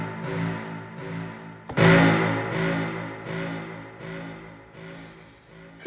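Brass samples played with effects rather than dry, a series of sustained swelling horn chords with reverb tails, one louder accented hit near the middle, in a beat-making session.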